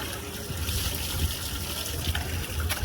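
Water splashing and gushing steadily as a person bathes and shampoos outdoors on a rooftop, a continuous close, moderately loud wash of pouring and sloshing with a few brief louder splashes.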